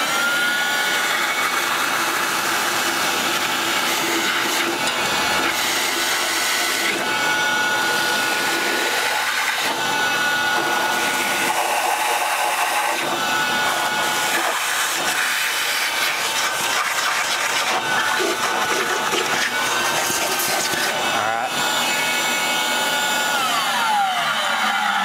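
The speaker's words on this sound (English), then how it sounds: "Let's grab that vacuum cleaner and see how it cleans up." A vacuum cleaner roars continuously nearby, a rough whooshing hiss with clattering and shifting pitch as it sucks up debris from a 1959 Willys CJ3B Jeep engine.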